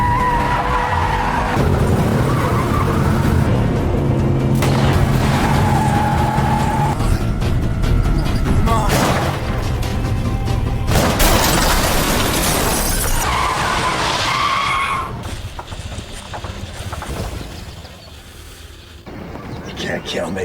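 A movie car chase ends in a crash, with loud tire skids and squeals, roaring engines and a sharp impact with shattering debris, all dense and close, followed by a quieter tail after the collision.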